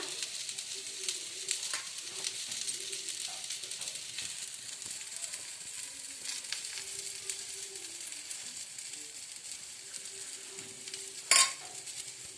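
Oil heating in a pan for dahi baingan (eggplant in yogurt), a faint, quiet sizzle with light stirring scrapes, ending in one sharp metallic clink near the close.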